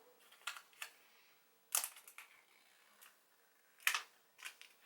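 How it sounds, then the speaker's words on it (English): Paper tab pulled to open the packaging of an iPhone SE box: soft crinkling and a few sharp tearing rips, close and quiet, in scattered bursts with brief pauses. "rather than having to open it yourself, have a little pulley tab here."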